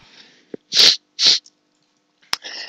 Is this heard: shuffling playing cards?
no